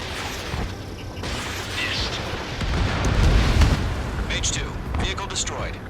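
A radar vehicle blows up in Ace Combat 7, heard as a rumbling, sustained explosive roar layered with jet engine noise and in-game radio chatter over about six seconds.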